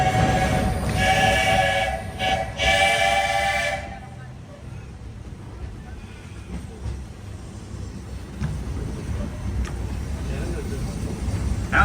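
A Disney park train rumbles along with a steady mechanical roar and a horn-like tone early on, then settles into a lower running rumble, with a voice talking over it.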